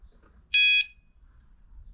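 A carp fishing bite alarm is switched on at a lake fishery, giving a single short, bright electronic beep of about a quarter second in otherwise near silence.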